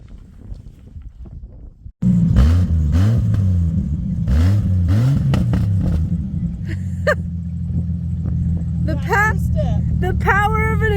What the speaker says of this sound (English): The power of an exhaust leak.